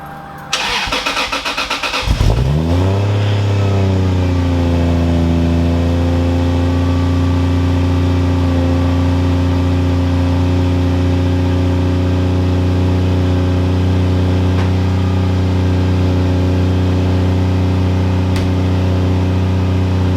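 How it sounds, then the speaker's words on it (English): A Lexus GS300 with a 2JZ engine cranks briefly, fires up and settles into a steady, loud idle that holds close and unbroken for many seconds, with no talk. "So let's see if it starts up and then stays running for after 10 seconds."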